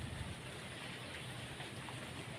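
Heavy rain falling in a garden, a dense, even hiss of downpour on surfaces that holds steady throughout, with no voices.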